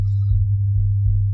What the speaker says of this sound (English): the highest sound frequency it's capable of producing is 100 hertz, which sounds like this